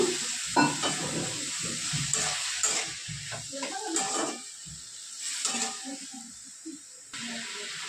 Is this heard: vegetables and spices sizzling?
yes